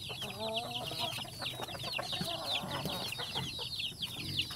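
A flock of farm chickens clucks and chatters continuously close by, with many overlapping short calls and a busy barnyard background.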